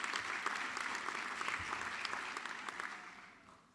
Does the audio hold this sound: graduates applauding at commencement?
yes